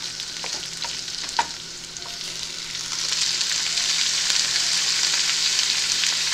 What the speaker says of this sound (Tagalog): prito na siya. At saka nyo, ilalagay ang papaya.